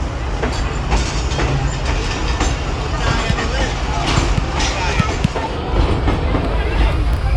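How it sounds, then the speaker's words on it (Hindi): Zakaria Express passenger train standing at Hyderabad Junction, with a steady rumble of rail and station noise, scattered clanks and knocks throughout, and people talking over it. "ये 9:35 पे रवाना हो रही है ट्रेन हमारी हैदराबाद जंक्शन से"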